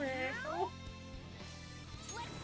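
A human voice imitates a cat's meow as Morgana in the video game Persona 5 Royal: a couple of rising and falling mewing cries at the start, then softer, over steady game background sound.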